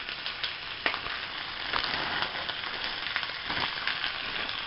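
Frozen vegetables fry in a pot with a steady close sizzle broken by sharp crackling pops and stirring scrapes, moderately loud, with nobody speaking.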